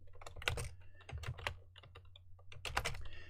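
Rapid clattering keystrokes on a computer keyboard while JavaScript code is typed, uneven bursts of close, crisp clicks with brief pauses between runs.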